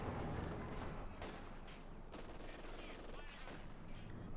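Battle din in the strategy game Company of Heroes 2, with machine guns firing continuous rattling bursts amid other gunfire and explosions, dense and steady at a moderate distance.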